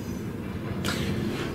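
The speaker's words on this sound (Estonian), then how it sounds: "siis rong sõidab" Train passing nearby, heard from indoors during a children's room build: a loud continuous rumble, with a brighter rushing swell joining about halfway through and holding to the end.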